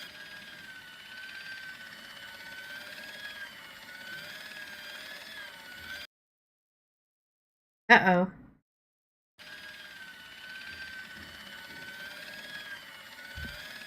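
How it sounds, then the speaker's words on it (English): Steady mechanical whirring hum in the background of the video game Broken Sword Reforged, running continuously before and after a short silent gap, with a brief spoken exclamation in between. "Why is there a weird whirring sound in the background?"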